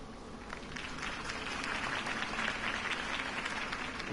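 Steady crowd applause with cheering texture follows a Harvey Dent campaign speech promising to save the city, a dense wash of clapping hands holding even and moderately loud throughout.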